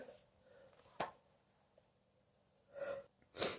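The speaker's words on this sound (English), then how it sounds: "Sorry, I have to sneeze." A single quiet sneeze bursts out near the start, followed later by a breathy intake and a sharp snort-like exhale, all faint in a hushed room.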